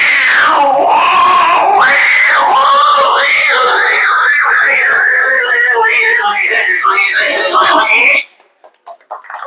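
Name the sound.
performer imitating two tomcats fighting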